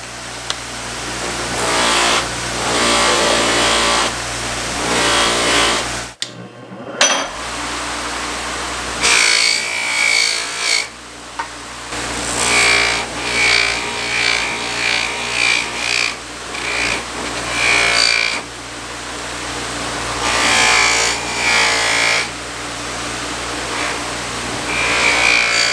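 Soft buffing wheel polishing a steel knife blade during a restoration, a loud continuous motor whir with rising and falling grinding swells as the blade is pressed on and lifted, one brief pause.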